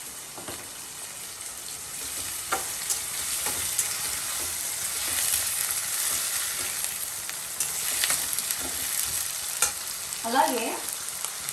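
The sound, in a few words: onions frying in oil with salt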